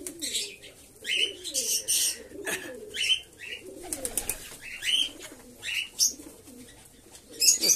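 Pigeons coo steadily at feeding time, their soft throaty calls overlapping in a busy loft, with chirps, rustling and wing movement around them and some talk in the background.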